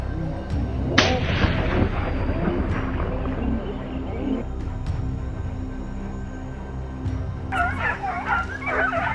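Gunfire during a wild boar hunt in mountain terrain, with sharp shot blasts among a busy outdoor mix where hunting dogs bark and yip throughout, fairly loud and close.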